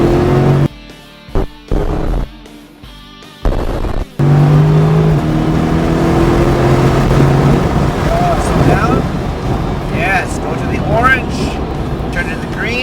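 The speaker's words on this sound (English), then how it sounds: "Start accelerating." Car accelerating on a racing driving track under instruction, engine tone rising in sweeping pitch glides after choppy bursts of wind buffeting, with an instructor's voice talking over the drive throughout.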